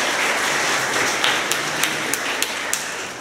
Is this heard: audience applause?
yes